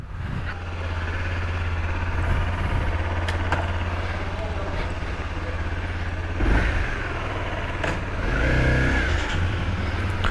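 A Honda CRF250L motorcycle engine on a test ride holds a steady low drone, rising in brief revs near the end, with someone talking over it.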